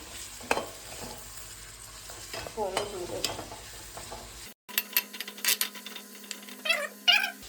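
Sliced onions fry in oil with a quiet, steady sizzle and a few stirring scrapes, while a cat meows repeatedly nearby.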